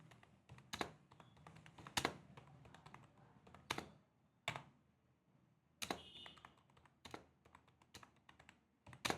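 Typing on a computer keyboard: irregular bursts of sharp key clicks and heavier thumps, close and moderately quiet, with short pauses between runs and no talk.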